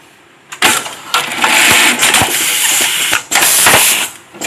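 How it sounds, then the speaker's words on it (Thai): A MAICA GL-21 automatic label sewing machine stitches in loud bursts, its motor revving up and whirring in several runs separated by short pauses and clicks, with no talk. "จะเป็นระบบเย็บแบบออโต้นะครับ"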